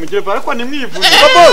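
A goat bleats loudly and close by, one wavering, shaky call that follows a short stretch of speech and briefly overlaps it.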